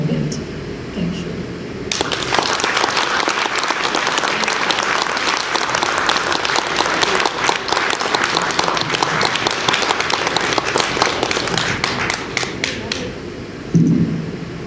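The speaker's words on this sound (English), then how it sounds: "Another round of applause to the whole of" Sustained applause from a conference audience, loud and dense clapping that starts abruptly and continues for about twelve seconds before stopping, with a little crowd noise mixed in.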